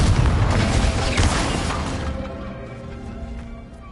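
A Confringo fire spell explodes in Hogwarts Legacy with a loud, broad blast that rolls off and fades over several seconds, with no voices over it.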